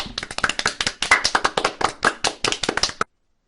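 Clapping in a circus-themed stage show, a run of sharp, distinct hand claps in quick uneven rhythm, close and fairly loud, stopping abruptly after about three seconds.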